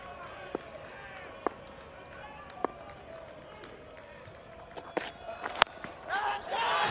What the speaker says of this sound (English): The crowd are going.